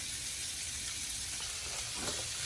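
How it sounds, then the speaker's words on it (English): Onions and celery sauté in a pan for a vegan cabbage potato soup, making a soft, even sizzle that stays faint and constant throughout, alone with no voices. "So we're going to go with our onions and our celery first. Going to saute that."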